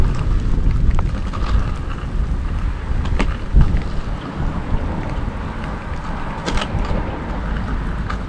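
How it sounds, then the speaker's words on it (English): Heavy rain pours down outdoors during a skateboarding session, a dense, steady hiss with low rumbling underneath and occasional sharper knocks, loud and continuous throughout. "Oh my God, it's raining hard."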